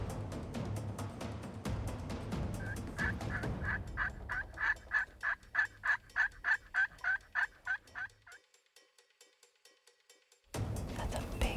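Wild turkey gobbling in a spring hunting setting, a longbeard tom near a younger jake, giving a clear rapid run of about a dozen loud gobble pulses at close range, with rustling before and a quiet pause after.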